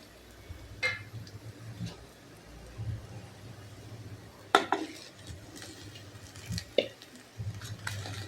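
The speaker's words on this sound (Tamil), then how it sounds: "இப்போ சாதம் போட்டுப்போம்." Cooked basmati rice tipped into a pan of sautéed vegetables and soya for a fried rice, with scattered metal spoon scrapes and clinks against the pan and soft stirring in between, fairly quiet and close.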